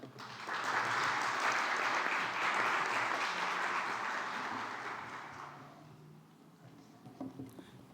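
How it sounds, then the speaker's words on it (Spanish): An audience applauds at a human-rights book presentation, a full dense round of clapping that swells quickly, holds for several seconds, then fades out into quiet room noise with a few stray sounds. "Recibámosla, por favor, con un fuerte aplauso"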